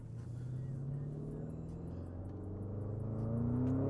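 A Porsche Turbo GT engine pulls hard under acceleration, its low, steady drone rising in pitch and growing louder toward the end, heard from inside the well-insulated cabin.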